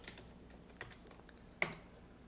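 Faint keystrokes tap on a computer keyboard at a quiet level. A few sparse clicks are followed by one sharper, louder key press near the end.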